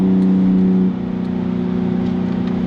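A BMW G80 M3 fitted with an equal-length midpipe, catless downpipes and a valve controller drones through its exhaust at steady revs, a deep, bassy, continuous tone that drops slightly in pitch partway through.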